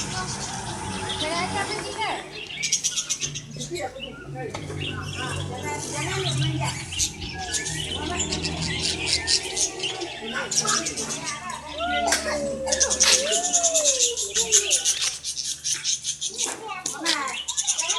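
Birds chirp and tweet at the Kulim bird park, their calls scattered through steady background noise while children talk and play nearby throughout.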